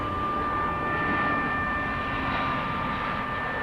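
Airplane at DFW Airport, a steady, loud roar of jet engine noise with a faint whine holding throughout, heard alone without talk.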